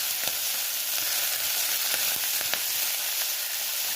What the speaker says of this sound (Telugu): తురిమిన అల్లం, సన్నగా తరిగిన పచ్చిమిరపకాయలు, ఎండుమిరపకాయలు, కరివేపాకు వేసుకొని వేయించుకోవాలి